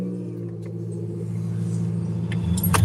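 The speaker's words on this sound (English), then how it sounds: "Somebody just started up a big block." A big block car engine idles nearby with a steady low rumble, building slightly in loudness toward the end where a brief rev or burst rises over it.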